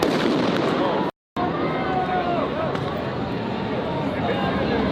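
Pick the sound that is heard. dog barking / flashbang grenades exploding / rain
flashbang grenades exploding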